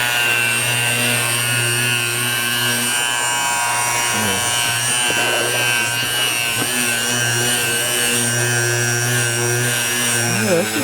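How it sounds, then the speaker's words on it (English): Bauer orbital palm sander from Harbor Freight running on a piece of MDF, a constant close buzzing hum with faint scratchy rubbing as the pad moves over the board. "I'm gonna sand this real quick. You know, piece of MDF."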